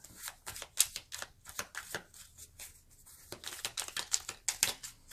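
Oracle cards are shuffled by hand in quick, crisp riffling flutters, one burst after another with brief gaps, close and fairly quiet, and no one speaks.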